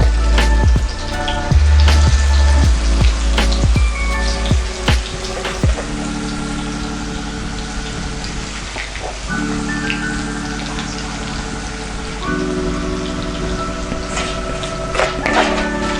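Marinated chicken pieces fry in hot oil over a low flame, a close, steady crackle and hiss broken by louder sputtering pops as the pieces go in, settling into continuous sizzling.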